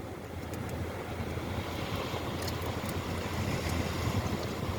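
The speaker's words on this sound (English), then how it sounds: "Let you listen to the ocean there." A steady, rushing wash of ocean surf blends with wind buffeting the microphone, continuous and unbroken, with no voices.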